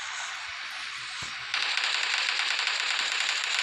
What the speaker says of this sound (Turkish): Oha Uğur'a nasıl vuruyor?